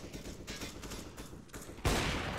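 Rapid gunfire crackles through a Counter-Strike match on the Cache map, with dense overlapping shots building to a louder burst near the end.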